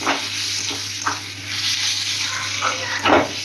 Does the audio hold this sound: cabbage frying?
yes